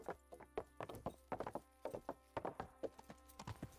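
Quick, sharp hoofbeats from Kingdom Come: Deliverance clatter in an even rhythm, crisp and close over a quiet background, like a horse trotting on hard ground.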